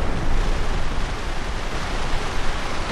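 Steady, dense rain in Grand Theft Auto: San Andreas, a continuous broadband hiss with no pauses and no voices, loud throughout.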